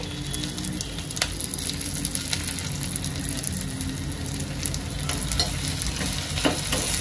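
Ginger-garlic paste, cumin seeds and curry leaves crackle and sizzle in hot oil for a tempering, a dense steady frying hiss with scattered sharp pops, close and loud, with no voices.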